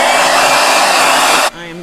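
A handheld blow dryer runs loud and steady with a broad airy roar, then cuts off abruptly near the end, leaving a brief faint whine.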